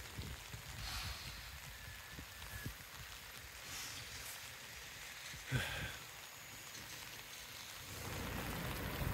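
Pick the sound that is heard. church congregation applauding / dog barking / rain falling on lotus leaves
rain falling on lotus leaves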